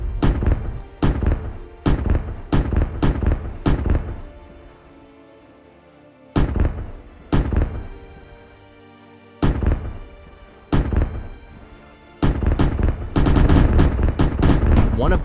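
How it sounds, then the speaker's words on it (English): A Bradley fighting vehicle fires its Bushmaster cannon at buildings in a village, loud booming shots in quick bursts of several rounds, separated by short pauses, ending in a dense volley. "It hits the adjacent building with its Bushmaster cannon."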